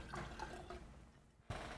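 Liquid colour mixture made from yellow, red and blue paint is poured, giving a faint, short trickle and splash close by, with no talking.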